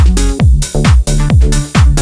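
A looped ride cymbal pattern from the Hype sample pack in a house track, its bright metallic hits repeating in a steady groove over booming kick and sliding bass tones, loud and without voices.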